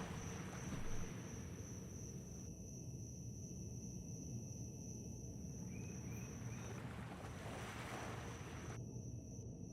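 Water and waves in the video game Empyrion: a low, steady ocean wash with a faint wind-like hiss throughout, moderately quiet, with thin tonal game hums drifting above it and no voices.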